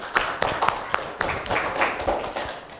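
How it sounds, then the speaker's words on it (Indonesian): A small group claps for a student team in a classroom, a few uneven, close hand claps spread across the moment rather than a full ovation. "Tepuk tangan dulu untuk kelompok 1."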